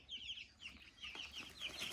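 Chickens in their pen give soft, close clucks and murmuring chirps, quiet and overlapping, over about two seconds with no talk.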